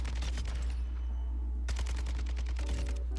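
An assault rifle fires in bursts on the Call of Duty Warzone firing range, sharp rapid reports with a brief pause midway before more shots, loud against constant game ambience.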